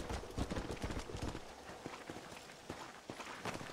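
Quick, rhythmic horse hoof beats in the video game Red Dead Redemption clop along steadily at a gallop, soft and a little distant.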